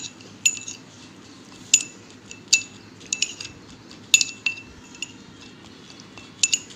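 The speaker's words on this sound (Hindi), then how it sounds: "सारी ड्राई इंग्रेडिएंट्स को हम अच्छी तरह मिक्स कर लेंगे" Spaced metallic clinks and scrapes of a spoon against a bowl while dry sandalwood powder and flour are stirred together, irregular and fairly close over a soft background.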